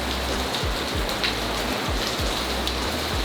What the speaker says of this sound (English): The rain is still with us.